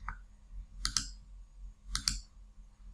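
A computer mouse clicks in database restore software: one light click, then two quick double-clicks about a second apart, sharp and close against a quiet room hum, with no speech.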